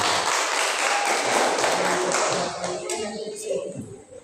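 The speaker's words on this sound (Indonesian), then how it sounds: "Tepuk tangan untuk regu B" Applause and clapping from students for team B at a high school Bible quiz final, broad and steady at first, then thinning out toward the end.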